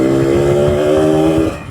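A Yamaha RX King motorcycle engine revs loud and close, its steady harmonic two-stroke drone holding high for over a second before easing off at the end.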